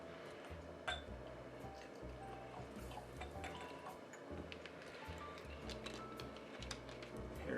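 Tequila poured into tasting glasses, soft liquid trickles with a few light glass clinks over quiet background murmur.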